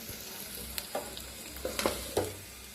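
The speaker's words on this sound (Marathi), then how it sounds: "मस्त असं भाजले जाते अंडा" Egg masala roasting in a pan, a soft steady sizzle with a few sharper spatters and stirring clicks close by.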